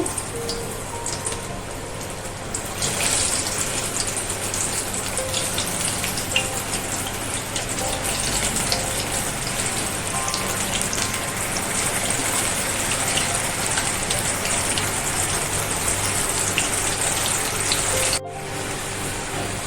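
Kabuli chana (chickpeas) fry in hot oil with a dense, loud, continuous crackling sizzle, close up and steady throughout, with a brief break near the end.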